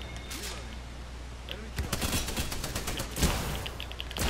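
Rapid bursts of gunfire from the Apex Legends video game rattle in quick clusters, sharp and fairly close, over a faint background.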